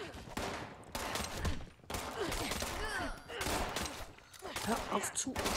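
Gunfire in the online game Fallout 76: rapid bursts of shots and volleys fired in quick succession, loud and close, while players talk over the shooting.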